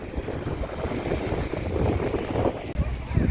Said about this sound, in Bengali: ট্রলার ঘাটে ভিড়ে গেছে